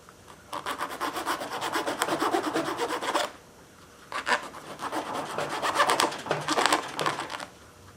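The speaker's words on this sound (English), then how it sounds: "let me file that down" A hand file rasps over a metal part for an engine build, taking burrs off a homemade overhead-valve Briggs conversion, in two steady bursts of close back-and-forth strokes with a short pause between.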